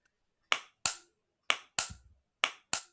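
The lid of an already opened Kissan jam jar is pressed repeatedly, giving six sharp, close metallic pops spaced irregularly over a few seconds against near silence.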